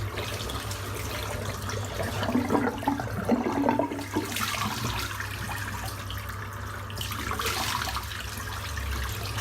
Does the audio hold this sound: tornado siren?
no